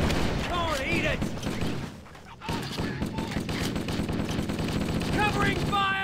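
Covering gunfire in a Halo battle on Legendary difficulty, a dense, continuous roar of rapid automatic shots and blasts. It briefly drops away in the middle before resuming, with voices and game chatter mixed under the shooting.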